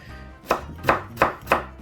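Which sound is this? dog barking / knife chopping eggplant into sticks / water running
knife chopping eggplant into sticks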